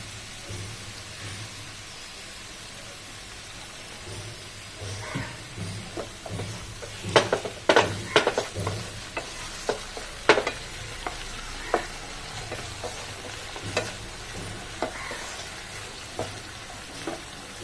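Crispy chicken stir-fried with red chili sauce in a pan, a steady sizzle under irregular scraping and clattering stirring strokes that grow busier midway, with no talk.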